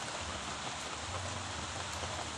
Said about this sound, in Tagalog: Ulanan ta.